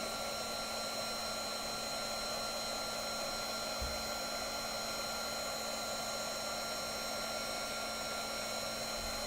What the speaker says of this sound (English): make sure that your heat tool is always hot before you bring it to your project, and then we're going to heat this up